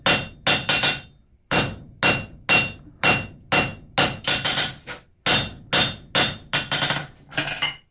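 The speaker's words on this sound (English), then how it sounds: "Just flatten it down where it's 3/8 to 1/4 inch thick" A hammer strikes a railroad spike again and again as it is forged flat, with sharp, ringing metallic blows coming in quick groups separated by short pauses, close and loud.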